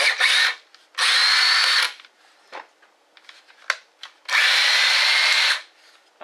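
A Ridgid X2 cordless hammer drill, just fitted with a replacement speed control switch, whirs in three short bursts of a few seconds each with quiet handling clicks between them.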